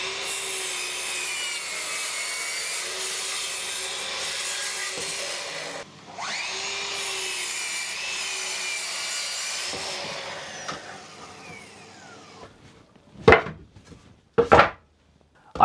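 Hand saw cutting wooden boards into pieces in long, continuous rasping strokes with brief pauses, close and moderately loud, ending with a few sharp knocks and clatters as the pieces come free.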